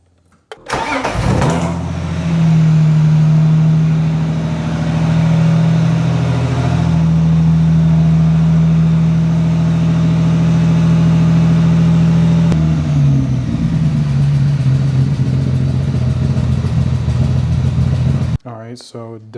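A BMW E30 engine cranks, catches and runs at a steady, loud idle for most of the clip, with a dip in pitch partway through before it cuts off at the end; it still smokes from residual oil on startup.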